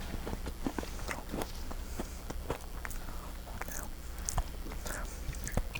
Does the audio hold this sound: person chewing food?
yes